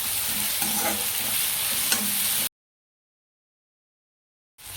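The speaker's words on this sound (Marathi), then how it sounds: "याला जास्त भाजायचं नाही, 2 मिनिटं फक्त परतवायचंय" Green chillies with salt being sautéed in a pan, giving a steady close sizzle with faint stirring scrapes, then a sudden cutoff into silence before the frying noise resumes briefly.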